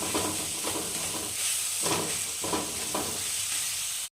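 A spoon stirs onion, tomato, ginger-garlic paste, turmeric, salt and chilli powder in a pan for vegetable bhurji, steady sizzling hiss with periodic scraping strokes, close and alone until it cuts off abruptly.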